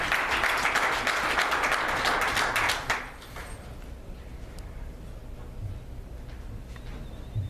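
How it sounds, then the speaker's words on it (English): An audience gives a spoken word performer a round of applause, with dense clapping for about three seconds that stops abruptly, leaving quiet room tone with a few faint scattered taps. "Please give Raymond a round of applause."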